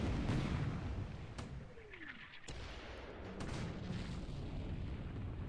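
Naval artillery shells strike warships in the Pacific War naval battle game War in the Pacific, with heavy booms and blasts over a steady rumbling roar, continuous for several seconds and without any voices.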